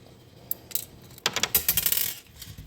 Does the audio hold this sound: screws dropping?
yes